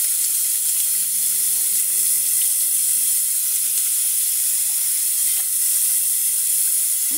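Tap water running into a sink while a face is rinsed, a steady bright hiss of flowing water with faint splashes, continuous and close, with no talking.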